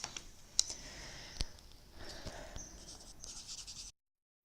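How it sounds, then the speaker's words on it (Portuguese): Someone writing by hand nearby, a soft, continuous scratchy stroking with a few light taps and clicks, ending abruptly in silence. "só um pouquinho que eu vou escrever aqui."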